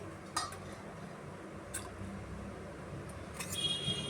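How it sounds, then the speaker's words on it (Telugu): Flour mix being stirred into boiling water in a pot for ugglu, a steady low bubbling and simmer with a few light clinks and scrapes of a spoon against the pot, close by and fairly quiet, with no voices. "ఇలా కలగొట్టుకుంటూ ఒక టూ మినిట్స్ కుక్ చేసుకున్నమాట"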